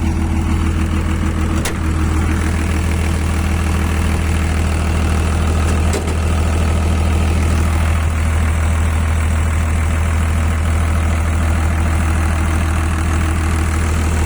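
A Daewoo six-cylinder diesel in a DH130-3 excavator idles smoothly, a steady low rumble with a couple of faint knocks, continuous and close with no talk.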